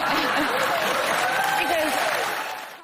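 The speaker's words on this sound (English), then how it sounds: "the audience gets the clap sign" A studio audience applauds steadily beneath a talking voice, the clapping fading out over the last half second.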